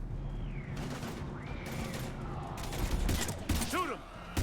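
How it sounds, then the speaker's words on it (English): Heavy gunfire in Mass Effect 3, with a fusillade of shots and booms over game music and electronic sweeps while voices call out during the fight. "We're taking heavy fire."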